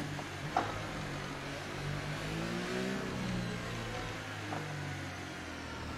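An F1 race car in the F1 2018 video game with a broken gearbox runs at Monaco with a steady, moderately faint engine drone whose pitch rises and falls as gears shift on their own, with no speech over it.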